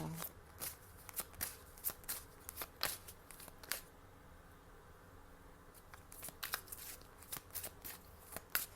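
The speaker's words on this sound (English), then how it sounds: "let me use one of these angel cards for you" A deck of angel cards being shuffled by hand, quick papery riffles and flutters in short bursts with brief pauses between them, close and fairly quiet.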